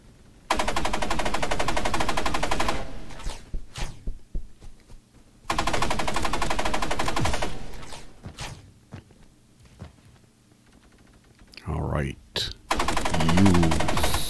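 Rapid bursts of gunfire from an energy assault shooter video game, loud repeated automatic volleys separated by short pauses, with a player's voice talking in between.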